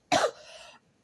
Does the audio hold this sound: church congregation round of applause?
no